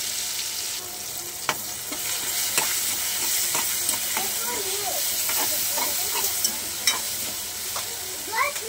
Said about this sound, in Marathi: तेल गरम झालेले आहे। तर आपण याच्यामध्ये राई टाकूया।